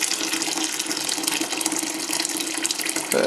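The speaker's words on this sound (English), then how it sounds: "So let's just add the hot water." Hot water poured into a vessel for homemade blackberry wine, a close, steady splashing gush of filling liquid lasting a few seconds before the pour ends.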